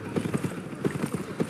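Horse hooves clip-clop at a steady trotting rhythm in the Albion Online video game, a white mount's repeated hoofbeats sounding clear and close with no talk over them.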